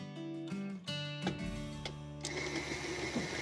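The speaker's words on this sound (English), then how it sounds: "So now it's time to cream the butter and sugar." Electric stand mixer creaming two sticks of butter with granulated sugar, a steady whirring hum with a clunk and a rise in pitch as the speed is turned up, close and continuous.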